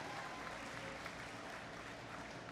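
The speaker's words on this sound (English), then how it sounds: "Can we give a huge round of applause to Qualcomm?" Dense, steady clapping from a crowd at the opening ceremony of a robotics competition event, heard fairly faint and distant, filling the whole short stretch.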